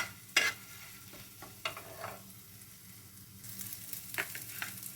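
A paste of ginger and green chili sizzles in a pan as it is stirred, with sharp scraping strokes of the spoon at irregular moments over a low, continuous frying hiss.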